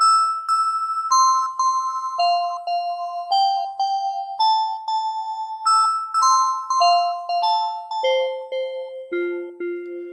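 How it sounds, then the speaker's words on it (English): OP-6 synthesizer playing preset 69, LFO Grooves, at a higher octave: a bright, bell-like melodic line of distinct notes that steps gradually downward, loud and clear, with no voices. "So we use the op6 on number 69 on the preset."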